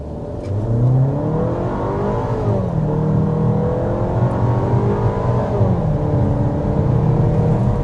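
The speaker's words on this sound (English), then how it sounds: "an important part of this turbo engine is the hard acceleration" A 2026 Volkswagen Tiguan Turbo's 268 hp turbocharged engine under hard acceleration: a loud, steady drone whose pitch climbs, dips at two gear shifts, and climbs again, with no talking.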